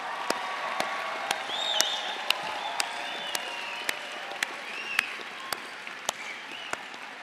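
A graduation audience fills a hall with steady, sustained applause that holds at an even level throughout, accompanied by a few distant whoops and cheers from the crowd.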